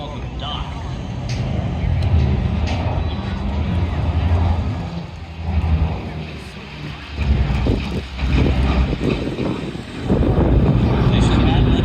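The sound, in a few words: Boeing B-29 Superfortress bomber 'Doc' propeller engines flying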